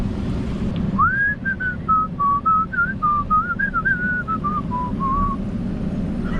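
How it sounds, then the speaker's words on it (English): A single person whistles a Christmas melody, a clear sustained tune of gliding notes lasting several seconds, with low rumbling road or engine noise continuing beneath it and no talking. "Was that a Christmas song I just fucking whistled?"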